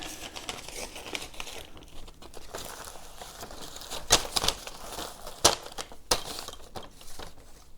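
Packaging material is cut off a Begode EX30 electric unicycle, giving close crinkling, crunching and rustling of plastic with a few sharp snaps, fairly quiet and without speech.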